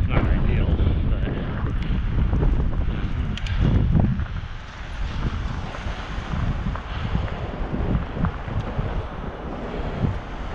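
Wind blows steadily outdoors on a sidewalk during sleet, a loud rushing buffet across the microphone, with brief gusts and faint voice underneath.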